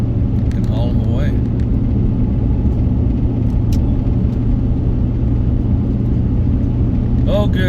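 Car driving along a road from Grand Coulee to Republic, a steady low engine and tire rumble throughout, with brief voices over it at the start and end.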